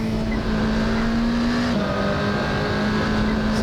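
Scuderia Glickenhaus race car engine in a racing video game on a demanding circuit, a loud sustained engine tone holding steady, then shifting pitch briefly as it changes gear before settling again.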